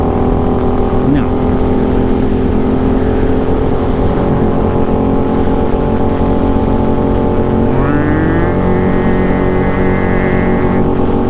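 A loud motorcycle engine and exhaust rumble steadily throughout, with a rising rev change near the end.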